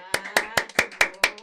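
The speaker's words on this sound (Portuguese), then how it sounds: "Palmas no Estúdio Orelha!" Six sharp, evenly spaced hand claps ring out close and clear in a small recording studio, steady and deliberate, with no talk over them.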